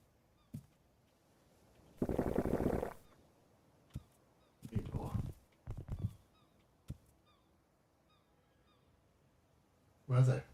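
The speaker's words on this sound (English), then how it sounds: "You don't see these seagulls." Seagulls call out at sea over the Pacific: a handful of harsh, scattered cries, one long loud burst and several shorter ones, separated by quiet gaps, with a final sharp call at the end.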